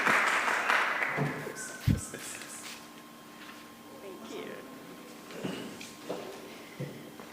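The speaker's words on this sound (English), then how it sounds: "Let us welcome her with a round of applause." An audience at a US Embassy COVID-19 donation event in Namibia briefly applauds the ambassador. The clapping is soft and fades within the first seconds, followed by a quiet room with faint movement and murmurs.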